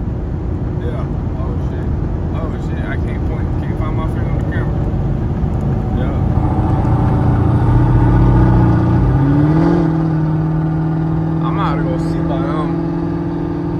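A Chevrolet Camaro SS engine hums under steady road noise and then swells as the car accelerates hard, its pitch climbing before settling into a higher steady drone, with someone talking in the cabin.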